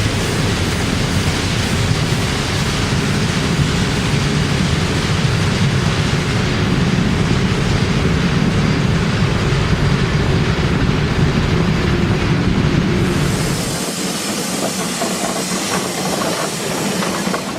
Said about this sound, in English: The train is returning back to Standard and number 33 passes the junction with the old Eagle